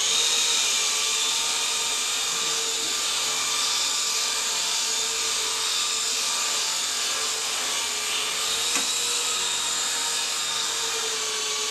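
A Picooz Silverlit Tandem toy RC helicopter motor gives a continuous, close, high-pitched electric whine that holds steady and loud throughout, with no voices.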